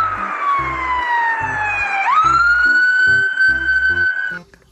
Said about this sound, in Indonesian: Widih, mobil polisi.